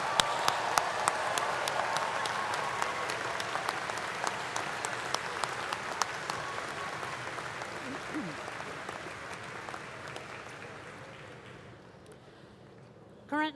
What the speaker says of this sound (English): let's give a round of applause to our newest doctoral degree holders